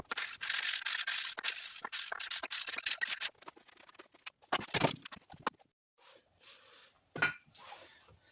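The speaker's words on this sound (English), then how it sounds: "I make now a notch into it to sandpaper a little bit down" Sandpaper is rubbed by hand against a Lambretta twin-cylinder engine part in quick scratchy strokes, close and fairly loud, then slower, more spaced rubs with short pauses between them.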